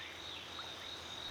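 Frogs croak at the water's edge in a Brazilian wetland, a dense continuous chorus of calls blending into a steady buzzing drone, fairly distant.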